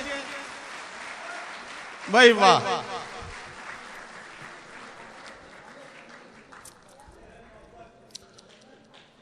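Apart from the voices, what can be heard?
audience applause welcoming guests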